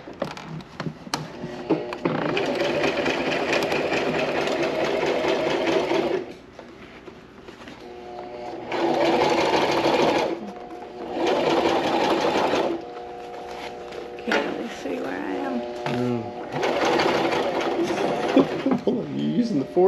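A sewing machine stitching fabric for a custom vintage motorcycle seat cover runs in several whirring bursts, each a few seconds long, with people talking in the pauses between runs.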